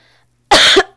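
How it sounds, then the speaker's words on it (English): A single loud, harsh cough bursts out after a moment of near silence, lasting about half a second. "I am so sorry if I'm coughing into the microphone"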